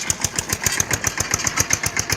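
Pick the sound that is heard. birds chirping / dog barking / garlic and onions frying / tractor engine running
tractor engine running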